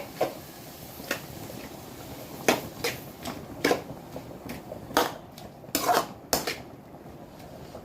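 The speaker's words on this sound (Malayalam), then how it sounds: "നല്ല രീതിയിൽ ഇളക്കി യോജിപ്പിക്കുകയാണേ" Prawn kappa biryani is stirred and mixed in a pot, with sparse, fairly faint clinks and scrapes of the spoon against the metal at irregular intervals over a quiet background.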